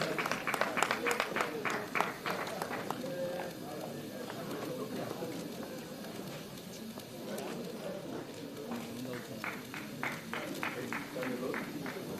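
An audience at an award ceremony applauds for a winner, with sustained clapping that swells at the start and again near the end under a steady crowd murmur and speech.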